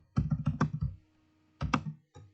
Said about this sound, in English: So if I type in another one